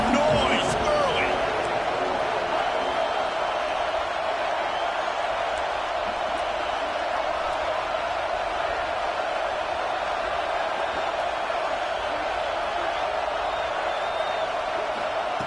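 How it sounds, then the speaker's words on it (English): A stadium crowd in the college football video game CFB26 roars steadily, a dense continuous wash of noise with faint whistles and cheers at the start, loud and unbroken throughout. "This crowd bringing the energy and noise early."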